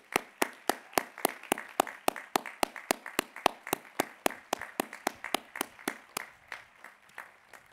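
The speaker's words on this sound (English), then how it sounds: "let's give them a sustained round of applause" A graduation ceremony crowd at Lake Forest College gives a round of applause, heard as a run of crisp, evenly spaced claps, fairly close and clear, with no talking.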